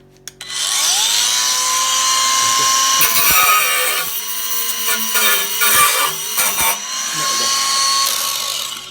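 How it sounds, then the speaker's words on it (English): Angle grinder cutting into car body spot welds, a loud sustained high whine that shifts pitch and breaks off briefly as the disc bites and lifts from the metal. "Let me grab my angle grinder."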